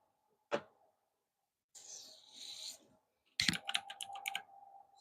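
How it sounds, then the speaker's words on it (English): Typing on a computer keyboard right beside the microphone: a sharp knock, then a soft rustle, then a quick run of crisp clacking keystrokes over a faint steady hum. "my microphone is right by my keyboard. Is it a lovely tippy tappy sound?"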